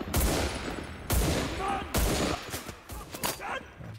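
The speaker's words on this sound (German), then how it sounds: "es wird nur auf mich geschossen" Gunfire in the video game Enlisted, repeated loud bursts and cracking shots in quick succession over a dense battlefield din, close and continuous.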